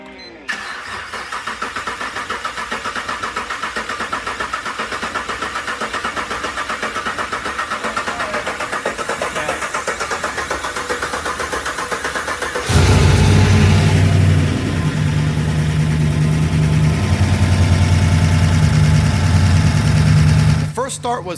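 A big-turbo Chevrolet Suburban engine cranks over for its first start with a long mechanical whirr, then catches and settles into a loud, rumbling idle, with voices talking underneath.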